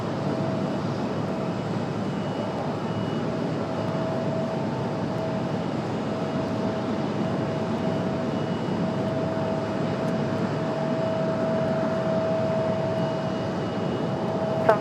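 A Delta airliner arriving at Raleigh-Durham airport, heard as a continuous distant engine roar with a faint steady whine, holding level throughout with no voices.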